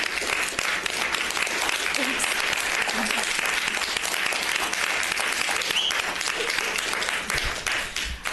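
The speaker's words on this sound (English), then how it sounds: "I think a salute and an applause is in order." Steady applause fills a city hall meeting room for several seconds, tapering slightly at the end.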